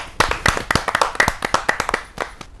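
An audience at a Hindi kavi sammelan poetry gathering claps to welcome a poet onstage: a brisk burst of many hands applauding together, loud and close, fading out after about two seconds.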